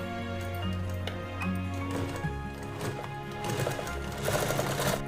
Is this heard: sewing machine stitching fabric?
yes